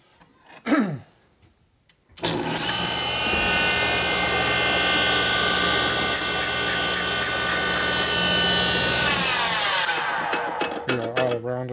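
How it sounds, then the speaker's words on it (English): Valve grinding on the top end of a 1958 Harley-Davidson 74ci panhead engine, a loud steady motorized whine and grind running about nine seconds after a short knock, then winding down. "Grind the valves for the seat."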